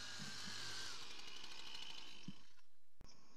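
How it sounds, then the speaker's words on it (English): A string trimmer cuts grass on a lawn hump, a loud close buzzing whine that holds steady, then cuts off sharply near the end before briefly restarting. "So I sort of run the strim around twice on that bit"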